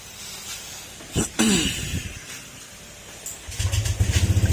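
A motorcycle with a newly timed engine is started: a few hissing, clattering cranking bursts, then the engine catches into a rapid, loud, steady putter close by.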